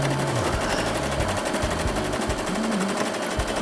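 A sewing machine stitching through pink trim with a bit of plastic inside, the needle striking it in a rapid, loud, steady mechanical rattle that runs without pause.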